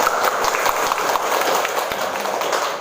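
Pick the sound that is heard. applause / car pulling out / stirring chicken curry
applause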